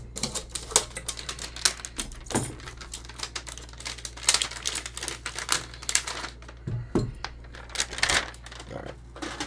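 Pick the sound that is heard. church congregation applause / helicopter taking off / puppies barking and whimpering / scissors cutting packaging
scissors cutting packaging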